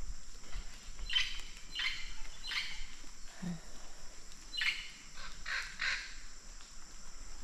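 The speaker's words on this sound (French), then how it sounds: "Alors, ces petits oiseaux." Small birds calling outdoors near Yaxchilan in Mexico, a series of short harsh chirps and caws repeating every second or so over steady insect-like buzzing, moderately distant and alone without talk.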